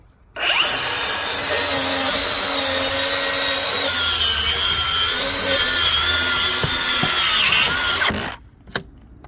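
Bosch GKT 18V-52 GC cordless plunge saw cutting through wood at a zero-degree angle, a loud, close, continuous high whine that runs about eight seconds before spinning down, with a few faint knocks afterward.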